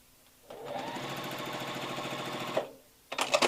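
Sewing machine running steadily for about two seconds while stitching foundation paper-pieced quilt blocks, a close, even mechanical whir with rapid needle clatter, followed by brief handling rustles.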